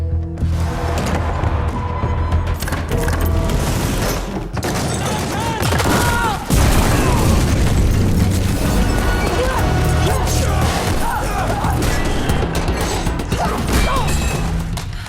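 Loud, dense gunfire and crashing blasts as attackers assault a weapons shop, continuous rapid volleys with smashing impacts, and a voice speaking beneath the chaos.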